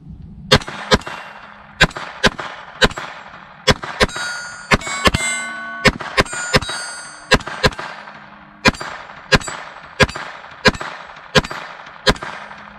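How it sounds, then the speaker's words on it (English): A full magazine fired from a gun outdoors, about two dozen sharp, loud shots in an uneven rhythm, each with a ringing clang as if striking steel targets. "Let's go ahead and shoot a mag through and see what we think."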